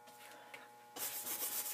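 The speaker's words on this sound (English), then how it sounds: "I'm going to use burnt sienna and just slightly scrub the canvas." A brush scrubs thinned burnt sienna oil paint onto canvas, a soft close rubbing that starts quiet and turns into a louder, faster scrubbing during the second half.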